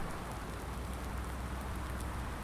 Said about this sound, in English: I suppose we are pretty fortunate that it waited until the end of the day to start raining.